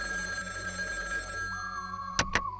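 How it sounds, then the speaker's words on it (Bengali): A telephone rings indoors: a steady electronic tone starts, then two short, sharp ring bursts come near the end over faint background hum. "ওই দেখো আবার কার ফোন এলো।"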